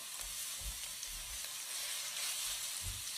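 Chili and garlic stir-frying in a hot pan, a steady close sizzle and hiss with soft low bumps of the spatula moving through the oil, no voices.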